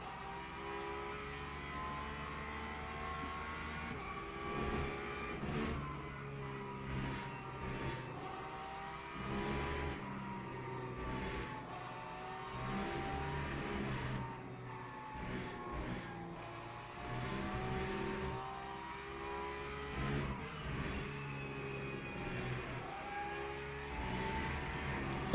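A Porsche race car engine at Qatar in the racing game Le Mans Ultimate drones steadily, rising and falling in pitch through repeated acceleration and downshifts at moderate, fairly quiet level.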